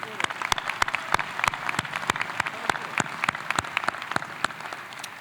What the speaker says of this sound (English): I just want to give another round of applause for all of our family members today,